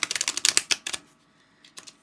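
A thick, stiff deck of mass-market tarot cards is shuffled close by: a quick clattering riffle of crisp card snaps for about a second, then a short pause and a brief second flutter.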